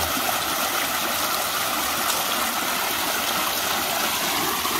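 Water rushes steadily through a gold prospecting sluice outdoors in West Virginia, making a constant, even wash with no pauses and no talking.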